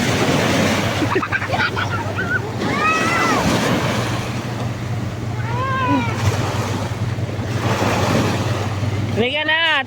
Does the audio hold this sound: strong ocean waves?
yes